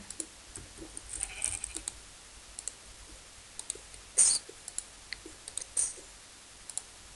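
A blocky Minecraft sheep bleats briefly a couple of times during survival play, the short cries standing out among scattered mouse and keyboard clicks.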